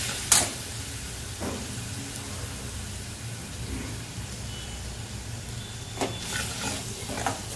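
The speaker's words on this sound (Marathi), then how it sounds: "चांगलं तेल सुटेपर्यंत भाजून घ्यायचं." Masala paste of onion, tomato and dry coconut fries in oil for Kolhapuri white rassa, a soft continuous sizzle under occasional scraping knocks of the stirring spoon against the pan, with a louder clatter near the start and end.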